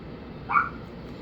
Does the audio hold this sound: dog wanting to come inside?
yes